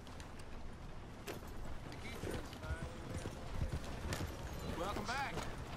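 Horse hooves clip-clop in the Red Dead video game while someone talks throughout, and the hoofbeats sit faintly in the background.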